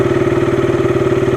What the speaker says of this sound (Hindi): अभी तो स्टार्ट होगी बाइक